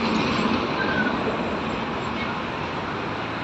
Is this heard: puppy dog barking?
no